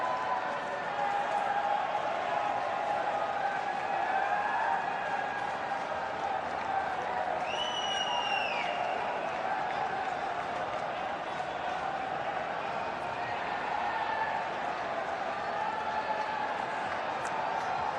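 Indian cricket fans in a packed stadium crowd at the Gabba, a broad sustained roar of cheering and clapping, with a whistle-like horn rising briefly midway.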